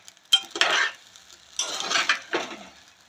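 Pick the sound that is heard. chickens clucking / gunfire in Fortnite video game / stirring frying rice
stirring frying rice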